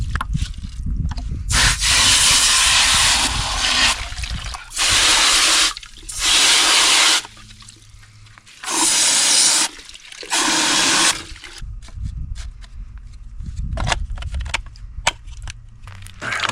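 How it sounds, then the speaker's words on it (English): Water gushes in repeated bursts over a muck-clogged fish farm filter pump on a homestead, loud splashing rinses alternating with quieter trickles and rubbing between sprays. "And we're just gonna rinse off the pump here as well"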